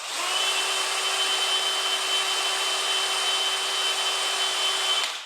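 A drill spins an EVA foam grip for a custom fishing rod against sandpaper, producing a steady, loud whirring whine with a constant pitch that starts abruptly, holds for about five seconds and then cuts off.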